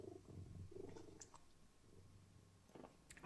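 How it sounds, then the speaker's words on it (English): A male cat purrs close up, a low, faint continuous rumble with a few soft clicks, heard alone without talking. "Listen to his purr."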